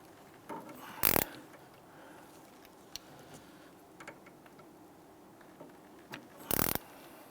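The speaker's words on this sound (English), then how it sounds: "I'm going to use my 10mm socket and 1/4" ratchet to open up the bleeder screw here." A 1/4 inch ratchet with a 10mm socket turns the rear brake bleeder screw on a 2011-2019 Ford Explorer, giving two short, close bursts of ratcheting clicks separated by quiet.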